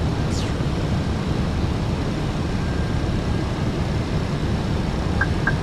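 A RANS S6 light aircraft climbing in Microsoft Flight Simulator 2024, a steady droning engine and wind roar held at constant loudness throughout, with faint high whistles near the start and end.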